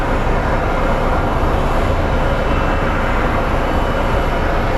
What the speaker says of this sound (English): And this is the poop truck.